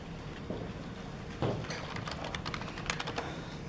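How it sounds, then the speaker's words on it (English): Fingers type on a computer keyboard, producing a quick run of light, irregular clicks that sit close and fairly clear over a faint room hum. "just type in houseplants"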